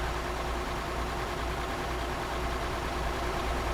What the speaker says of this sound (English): Listen to that engine, man.